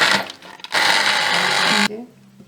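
Thickened tomato kulambu is churned in a pot, giving loud, whirring, rattling bursts that start, pause and stop abruptly, with people talking around them.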